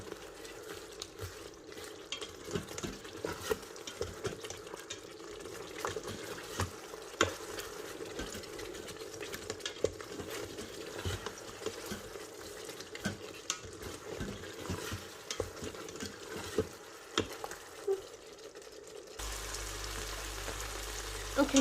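Lamb stirred with yogurt inside an Instant Pot Duo 7-in-1 5.7-litre pressure cooker: steady scraping and stirring with light sizzling throughout, ending in a short electronic hum.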